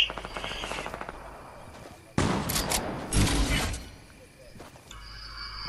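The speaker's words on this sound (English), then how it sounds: "I can hear shots." Gunfire in a video game, with a few faint distant shots early, then a loud burst of rapid automatic fire and crackling impacts in the middle that fades away.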